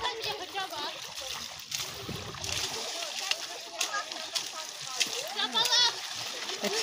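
Splashing and sloshing water as someone dives into a river and swims, with children and adults talking over the bright, choppy splashes.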